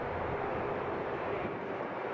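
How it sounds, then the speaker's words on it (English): An ATR turboprop aircraft engine drones at Edinburgh airport, a faint, steady broadband rumble in the background with no distinct events, heard alone. "You could probably hear the ATR in the background."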